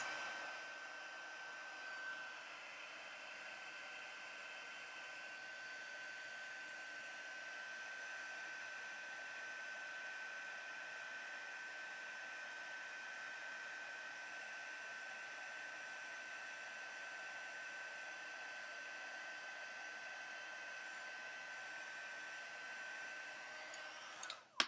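A heat embossing tool blows hot air in a steady, faint, hissing whoosh with a thin high whine, running continuously for about twenty-five seconds without speech.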